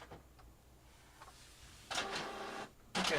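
A misbehaving office printer sits mostly quiet, then gives a short whirring, clattering burst of printing that stops. A second burst starts right at the end.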